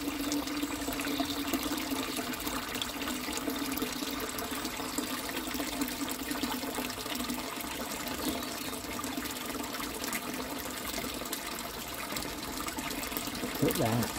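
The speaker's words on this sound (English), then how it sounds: "Right, pump is on, shower is working." Water from a pond pump's shower spray bar pours steadily into a sleeper-wall pond, a continuous broadband splashing rush that runs unbroken throughout, with faint voices talking underneath.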